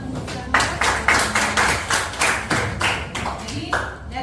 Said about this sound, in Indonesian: Terima kasih tepuk tangan untuk Scarlett.